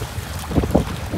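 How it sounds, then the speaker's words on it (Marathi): A fishing boat on a rough sea, heavy with its catch, with steady wind buffeting the microphone and a broad wash of waves swelling briefly louder midway; no voices. "दर्या पूर्ण खवललाय."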